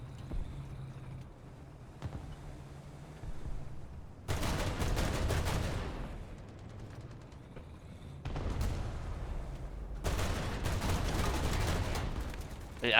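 Bursts of heavy gunfire and blasts in War Thunder tank combat come in two long loud barrages, with a low engine rumble between them.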